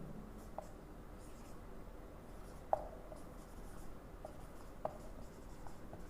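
Pen or chalk writing out a math topic heading for a polynomials lesson, faint scratchy strokes with a few small taps against a low steady room hiss, no voice.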